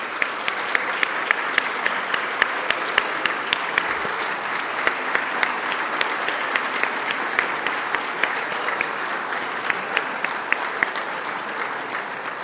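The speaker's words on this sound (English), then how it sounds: "I'm just going to ask everyone to give us a round of applause" An audience at a public talk event claps steadily for twelve seconds. The dense applause is even and sustained, with a few sharper individual claps standing out.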